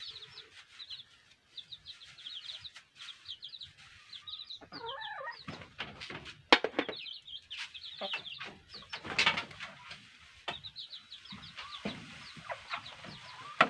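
Seven young chicks peep busily in their new coop, with a steady run of high, thin chirps overlapping close by and occasional louder flurries and rustles.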